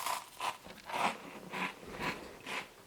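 Dry Weetabix wheat cereal bitten and chewed up close, giving five or six crisp, dry crunches at a steady pace of about two per second, with no talk.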